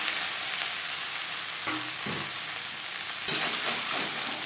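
Sliced ridge gourd hits hot oil in a pan for a light fish curry, a continuous sizzle with the sharp crackle of frying, jumping in bursts as the pieces drop in and are stirred.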